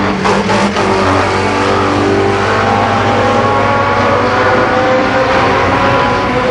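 ARCA Pro 4 race cars roar around Columbus Motor Speedway in 1990, a dense, continuous engine drone of several cars at speed, loud and steady for the whole stretch, with no talking.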